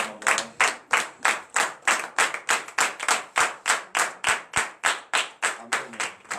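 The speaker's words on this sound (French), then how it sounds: "Levons-nous sur nos pieds et donnons une vive acclamation au Seigneur" A church congregation at morning prayer claps in acclamation, loud, rhythmic, evenly spaced claps at a brisk steady tempo, close and continuous throughout.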